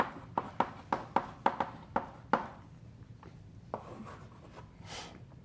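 Chalk taps and scrapes on a blackboard as equations are written during a physics lecture, a quick run of sharp, evenly spaced strokes followed by quieter, scattered rubbing, all fairly close and without speech.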